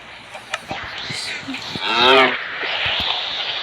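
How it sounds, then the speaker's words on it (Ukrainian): A single low cow moo in Minecraft rises briefly over a busy background of clicks and hiss, a short, fairly loud call lasting under a second. "Корова, подвинься."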